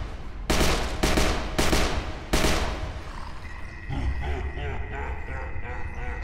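Bursts of gunfire ring out in the VR zombie shooter HordeZ, four sharp volleys in quick succession followed by quieter game sounds and faint electronic tones.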